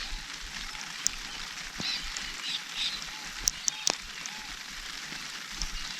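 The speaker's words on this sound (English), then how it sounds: "I actually don't mind that it's raining." Steady rain falls on calm water around a kayak in a wilderness spot in East Gippsland, a soft constant hiss with scattered sharper drips and a few faint bird chirps.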